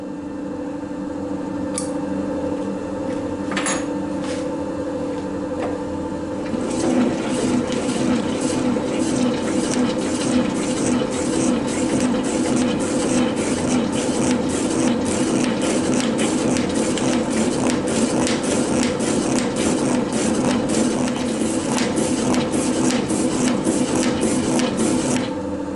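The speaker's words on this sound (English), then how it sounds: "I will make a 45-degree chamfer." A cutting tool machines a 2 mm, 45-degree chamfer on a lathe, with a steady motor hum that shifts into a louder, continuous grinding cut partway through, alone and close.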